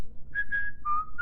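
A person whistles a short tune imitating Mickey Mouse in Steamboat Willie, a few clear, steady notes sounding alone and close.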